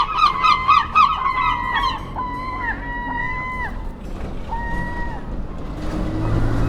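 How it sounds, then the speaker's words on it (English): Gulls near a seaside pier and shopping street give loud, close, repeated harsh calls, first in rapid bursts then in longer drawn-out cries, with traffic rumbling underneath. "Bloody noisy gulls."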